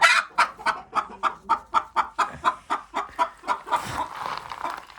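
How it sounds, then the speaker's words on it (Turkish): A hen cackles close by in a rapid, rhythmic series of loud clucks, about a dozen pulses before trailing into a looser squawk. "Tavuğumuz gıdaklamaya başladı."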